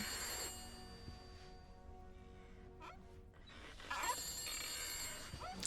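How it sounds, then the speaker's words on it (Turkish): In the horror game The Beast Inside, an old telephone bell rings insistently, a steady, faint metallic trill that drops out briefly midway and then resumes, all under a quiet hum. "Şu telefona bir bakar mısın artık ya?"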